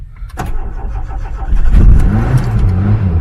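An old Tofaş Kartal car engine cranks, catches and starts, then revs up loudly, the rumble rising and holding steady close by.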